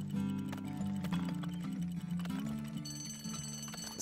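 Horse hooves clip-clop in the Turmoil video game, a steady rhythmic clopping layered over continuous game music and ambient tones.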